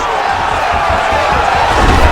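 A dense crowd roars and cheers continuously in the fighting game EA Sports UFC 5, loud and close, a steady wash of excited voices with no breaks.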